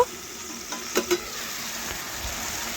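Pumpkin vegetable curry is stirred in a pan with little water left, a soft, steady sizzle broken by a few distinct spatula scrapes and knocks close by.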